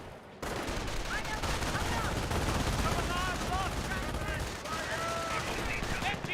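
Dense, continuous machine-gun fire from an MG42 in a Company of Heroes battle, steady crackling bursts over a low rumble with chirpy unit voices and battlefield clutter mixed in.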